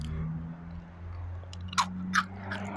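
Crunchy bites into crispy deep-fried taro, two short crisp cracks close to the mic over a low background hum, with no one speaking.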